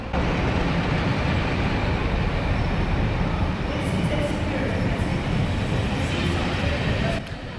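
A special-service train passes through Crewe station, rumbling loudly and steadily with a dense, rushing roar of wheels on track, fading slightly at the very end.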